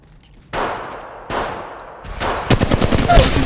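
Gunfire in Apex Legends Mobile, two single loud shots followed by a rapid automatic burst of about ten rounds, close and punchy with no voices.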